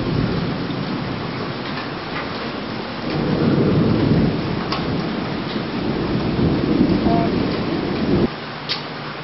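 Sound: rain and thunder

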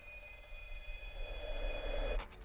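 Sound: telephone ringing in a film trailer

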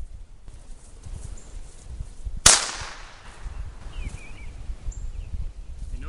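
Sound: gunshot fired during gun dog training

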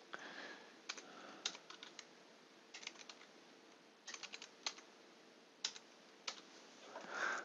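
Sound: typing a date on a computer keyboard

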